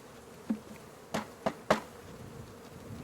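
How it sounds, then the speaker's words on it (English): A mass of bees in a shipping package hums continuously while several sharp thumps of the package being shaken punctuate the buzzing. "We're going to shake this package of bees"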